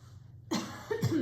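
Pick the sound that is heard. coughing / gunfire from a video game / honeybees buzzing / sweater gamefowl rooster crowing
coughing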